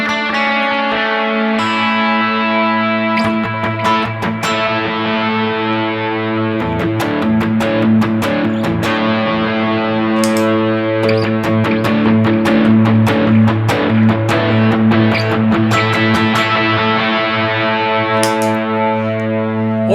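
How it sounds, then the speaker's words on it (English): An electric guitar plays a sustained lead tone through a worship-style pedalboard rig, loud and up close, with distortion, chorus-like shimmer and reverb trailing the held notes over brief picked passages, continuous throughout. "And then I can quickly get to some lead sounds"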